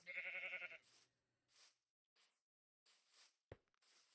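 Minecraft sheep bleat in a short wavering call, followed by a few softer game sounds spaced across the quiet moments, close and clear with nobody speaking.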